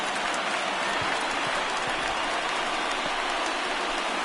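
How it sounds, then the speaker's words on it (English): A stadium crowd in the baseball video game MLB The Show 19 roars in a steady, dense wash of cheering noise that holds evenly at a distance throughout. "Crowd gets up for the 3-2."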